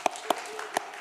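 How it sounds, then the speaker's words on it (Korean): A small church congregation at a Friday prayer meeting gives brief, sparse applause for a correct Bible quiz answer, with a few scattered claps in quick succession. "박수하겠습니다"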